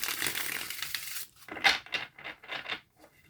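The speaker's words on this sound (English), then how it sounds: "That's a better shuffle. Let me do that again." A deck of tarot cards is shuffled nearby: a continuous papery hiss, then a series of separate rustling riffles and taps that fade toward the end.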